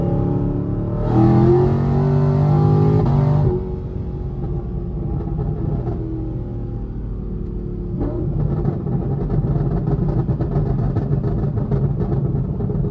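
A cammed, supercharged 416 Camaro SS pulls hard in fourth gear, its engine note rising loud and close before easing off into a steady deep rumble that swells again toward the end.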